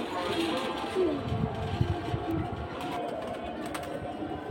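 A large pankhi pigeon pair at a busy pigeon market, with soft cooing mixed into a dense bed of crowd noise and background chatter.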